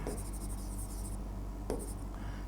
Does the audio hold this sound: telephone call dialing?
no